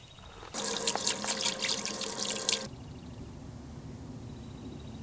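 Water gushing steadily from a tap at a campsite while dishes are washed, loud and close for about two seconds before cutting off to quiet outdoor background.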